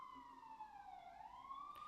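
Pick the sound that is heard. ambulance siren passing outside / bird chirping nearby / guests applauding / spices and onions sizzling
ambulance siren passing outside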